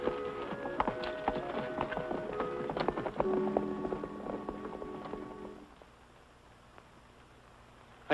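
Horse hooves clip-clop in a steady rhythm for several seconds in a western film, fairly close, then fade away, leaving quiet background.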